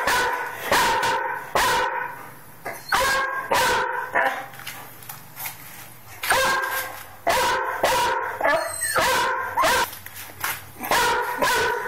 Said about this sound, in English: Pretty clever dog.